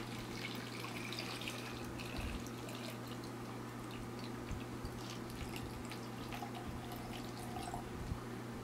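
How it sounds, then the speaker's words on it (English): Water poured into a small homemade hydroponic system, filling it up to the bottom of the net basket: a steady, faint trickle and splash with scattered drips and no talking. "I am going to pour some of that water in here"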